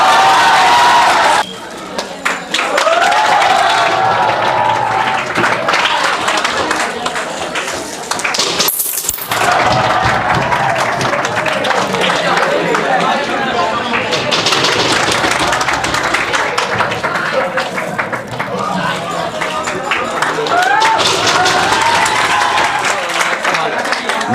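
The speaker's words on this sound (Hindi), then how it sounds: "जोरदार ताली करो।" An audience at an event honouring a JEE Main topper breaks into loud, sustained applause, dense clapping from a crowd that continues strongly throughout, with a brief dip near the start.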